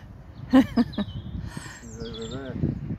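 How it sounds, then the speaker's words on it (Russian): A bird sings in a park by Holy Trinity Church in Stratford, giving a few loud opening calls and then a clear, high, warbling run of notes. Faint talk and background noise sit underneath. "я еще и попросила птичку спеть мне песенку, и она так запела заливисто"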